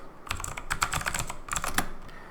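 Rapid clicking keystrokes on a computer keyboard, close and steady in two quick bursts with a short gap between, no voices present.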